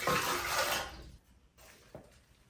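One cup of water pours into a bread machine in a brief splashing stream for about a second, then stops, leaving faint handling sounds and a soft knock.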